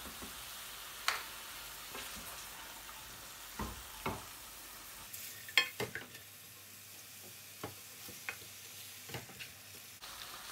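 Onions cooking in a pan with salt for lamb shatkora curry, a faint low sizzle broken by scattered soft clicks and scrapes of stirring, quiet and close.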